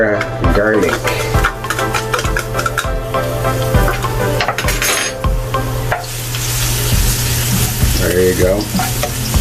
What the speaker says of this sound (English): let's start sauteing some of our ingredients. I'm putting vegetable oil in there, and then we're gonna put in